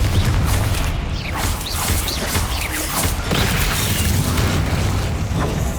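Repeated Confringo fire-blast spells exploding in the Hogwarts Legacy video game, loud booming blasts and crashes one after another over a dense, busy combat mix.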